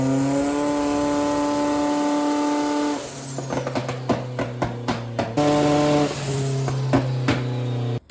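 A stock Saab engine on a dyno holds a loud, steady high-rpm drone, then drops to a lower pitch as sharp pops and stutters from a misfire break up the revving.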